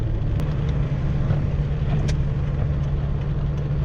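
Manual-transmission car driving in pouring rain, a steady low engine drone with constant broadband rain hiss over it, even and continuous throughout with no talk.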